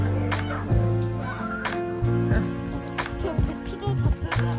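Chickens cluck and squawk in short bursts close by, with scattered sharp taps and background chatter from people nearby.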